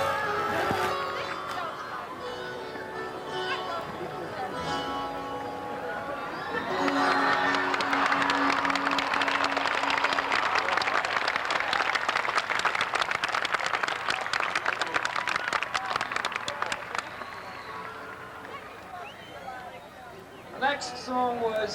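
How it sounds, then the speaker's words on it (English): A large outdoor concert crowd at the Halifax Summit final-day celebrations cheers and applauds, a band's music fading into a swelling wall of clapping and shouting that holds loud and steady before easing off. "Listen to that crowd."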